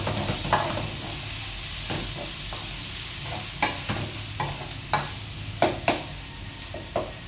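Tomatoes, green chillies and onion fry in a pan, a constant sizzle broken by a string of sharp scrapes and knocks from a stirring spoon that come faster toward the end.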